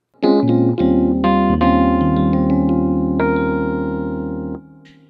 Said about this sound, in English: I'm going to go ahead and select the category button for EP electric piano